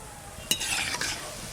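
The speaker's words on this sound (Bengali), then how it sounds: "ফুলকপি 65-এর জন্য ফুলকপিগুলো ভাজা হয়ে গেল, তুলে নেব।" Cauliflower 65 pieces coated with curry leaves fry in hot oil while being stirred, with a steady close sizzle, a sharp scrape or clink near the start and another stirring stroke about halfway through.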